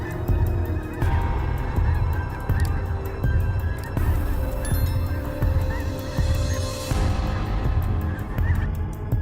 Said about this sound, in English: flocks of wild geese migrate to this warm tropical region to overwinter